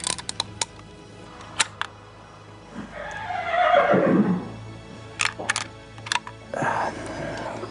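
A horse whinnies once near the middle, a loud descending neigh standing out from a quiet night scene with scattered small clicks and taps around it.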